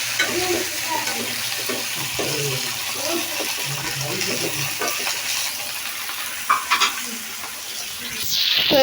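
Fish frying in a pan on one burner of a home stove, a soft, steady sizzle at moderate distance with a few scraping and clattering knocks near the end and no talk over it.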